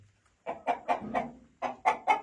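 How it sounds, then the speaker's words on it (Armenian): Village hens, young pullets just starting to lay, and roosters cluck close by in two quick runs of sharp, rhythmic calls, with brief pauses between. "հավերի մեծամասնությունը ճտերը նոր է սկսել ածել ու մեջները կան նաև տարիքով հավեր, որոնք չեն ածում ու նաև աքլորներն են շատ"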